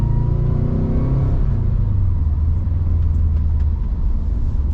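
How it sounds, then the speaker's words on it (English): A 2012 Subaru Impreza WRX with a boxer engine revs loudly and close by, a deep, throbbing rumble that rises and then holds steady throughout, with no voices over it. "you've got the signature Subaru noise from that Boxer"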